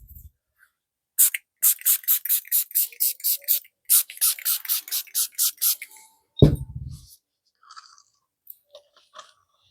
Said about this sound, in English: let me spritz these.